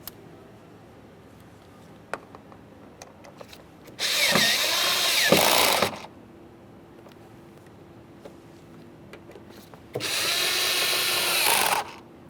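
A power drill drives two Phillips head screws into a door-mounted side mirror on a 1994-2001 Dodge Ram 1500, in two loud, steady whirring bursts of about two seconds each, separated by quiet handling clicks.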